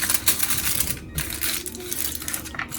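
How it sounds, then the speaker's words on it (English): Aluminium foil crinkled and pressed around the edges of a pecan pie crust, a dense, close crackling rustle with sharp crisp bursts, continuous over a few seconds with brief pauses and no talking. "I'm gonna put some foil around my edges"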